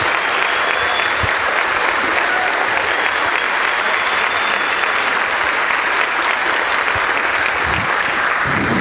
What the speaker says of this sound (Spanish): Yo quiero que ellos les demos un fuerte aplauso, y en general para todos